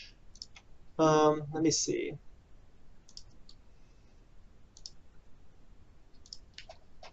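A few scattered clicks from computer keyboard keys sound faintly in a quiet room, and someone speaks briefly near the start.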